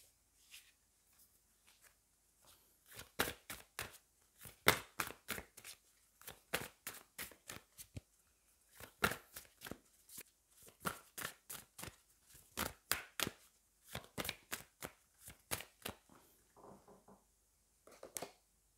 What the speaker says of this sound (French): Allez, on va aller prendre une carte du lot Poutine.